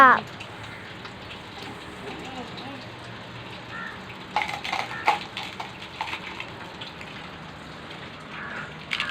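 Rain falling steadily as a continuous broadband hiss, with louder splashing patter bursts around the middle and faint indistinct voices underneath.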